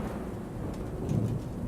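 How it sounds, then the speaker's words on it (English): Thunder and a rainstorm around a tower in Warhammer: Chaosbane, heard as a steady low rumble with rain hiss and a slightly louder roll near the end, with no voices. "a peal of thunder shatters the stillness, followed by a howling wind that shakes the tower to its foundations"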